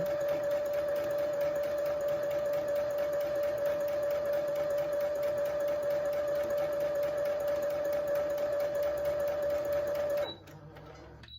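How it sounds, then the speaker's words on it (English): A sewing machine runs a quilt seam in one long, even whir of fast stitching with a steady motor tone for about ten seconds, then stops abruptly. "Just sewing this first one down, and I don't even have to back stitch because it's going to be caught in another seam."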